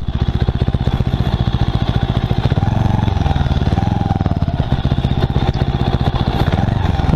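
A motorcycle rides slowly across sand at a backpackers' camp in Mandarmani, its engine chugging steadily and close throughout, with the throttle briefly rising midway.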